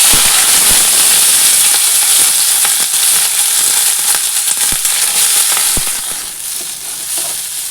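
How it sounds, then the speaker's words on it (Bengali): Potatoes and onion fritters fry in leftover oil in a home kitchen wok, giving a loud, steady crackling sizzle with scattered sharp pops, easing slightly toward the end; no one speaks. "আর আলু ভেজে নেব।"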